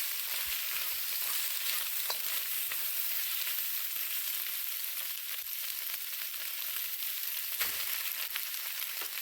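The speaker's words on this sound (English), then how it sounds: "Just keep them moving with the wooden spoon, stirring constantly over the high heat." Chopped vegetables sizzling and stir-frying in a pan over high heat, stirred steadily with a wooden spoon; a continuous, fairly loud hiss with occasional soft scrapes and knocks, no one speaking.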